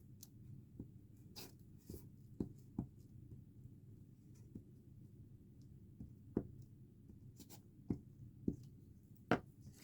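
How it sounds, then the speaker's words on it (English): A Pritt glue stick is rubbed over paper, giving soft, dry scraping strokes. Faint sharp taps and clicks recur irregularly above a low steady hum, close by and quiet. "I might just use this Pritt stick."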